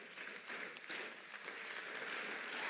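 An audience at a farewell conference gives a sustained ovation, a steady, even wash of many hands clapping that holds at a moderate level throughout, with no speech over it.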